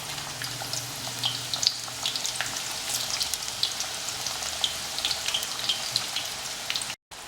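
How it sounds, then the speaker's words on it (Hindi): Onions frying in hot oil for a Jaora-style mutton korma, giving a steady, dense crackling sizzle with scattered sharp pops throughout and a brief dropout near the end. "फ्राई कर लेते हैं सब प्याज को"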